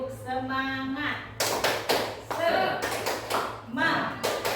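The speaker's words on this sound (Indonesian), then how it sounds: "Mari Bapak Ibu tepuk semangat bersama-sama" A group claps rhythmically in a tepuk semangat chant, crisp claps in short patterned bursts, mixed with a speaking voice leading the group.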